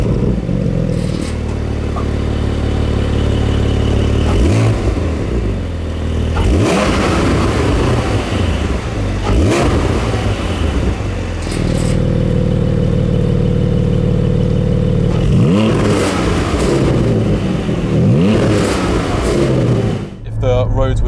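A 2020 Porsche 718 Cayman GT4 six-cylinder exhaust rises and falls through repeated revs and gear changes, loud and close, with someone talking over it throughout.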